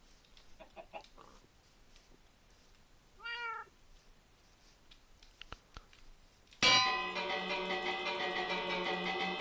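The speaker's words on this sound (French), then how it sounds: "Maintenant, petite cloche." A village bell in Minecraft survival gameplay rings out suddenly near the end, loud and sustained with a bright metallic shimmer, after a stretch of faint game sounds and a brief animal-like call.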